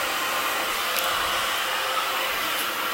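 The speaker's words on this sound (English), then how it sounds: "I don't normally turn my blow dryer off in between sections." A handheld hair blow dryer runs steadily during a blow-dry styling session, a constant airy whooshing hum at close range with no pauses and only slight wavering as it is moved around.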